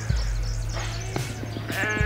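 A sheep in rural Tasmania gives a short, close bleat, with a second quavering bleat near the end, and no voices over it.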